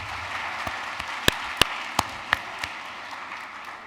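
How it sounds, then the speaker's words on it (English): Applause from the audience at an honors college induction ceremony thins out to a handful of sharp, scattered claps over a low room hum. "can we give another round of applause for Nia?"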